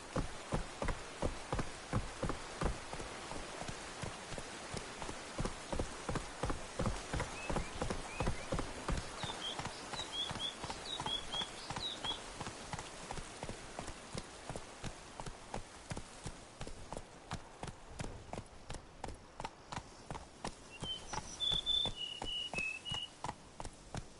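Horse hooves galloping in The Witcher 3: Wild Hunt, a fast, steady rhythmic pounding that runs the whole time, with faint chirping insects and birds in the background.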